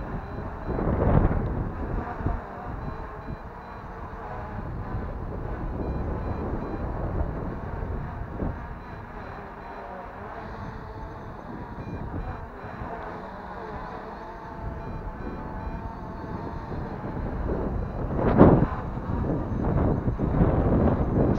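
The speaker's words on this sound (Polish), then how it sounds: "Wiatr jest naprawdę duży, co widać po choinkach na wprost." Strong wind gusting and buffeting outdoors near a row of spruce trees, a steady rushing roar with heavier gusts toward the end, partly blasting across the microphone.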